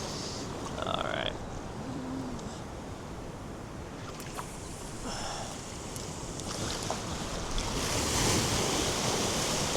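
Ocean surf at Matanzas Inlet, waves rolling and breaking continuously on the beach with wind buffeting the microphone, a broad steady wash that swells louder toward the end, with no talk.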